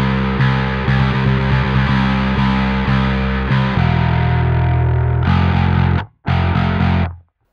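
Distorted black metal bass guitar chugs through a tight, palm-muted riff, loud and continuous with a brief cut near the end before one last ringing chord.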